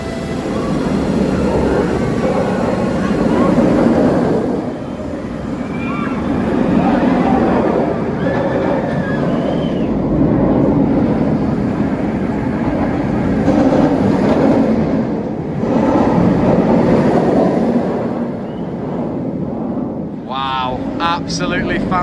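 Roller coaster ride on Nemesis, a rollercoaster at a theme park during a Scarefest Halloween event: a steady, loud rumbling roar of the train on track lasting throughout, with voices and screams mixed in and a brief squeal near the end.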